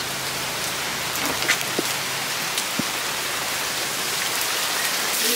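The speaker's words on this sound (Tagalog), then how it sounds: "Oh my God, umulan." Rain falls steadily during a family's trip home, a dense even hiss of drops on surfaces with a few soft taps, continuous and fairly close.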